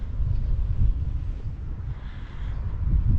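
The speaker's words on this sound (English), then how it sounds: "It's just a constant wind." Steady wind buffeting the microphone outdoors in Palma de Mallorca, a constant low rumble without strong gusts that continues unbroken and fairly loud throughout.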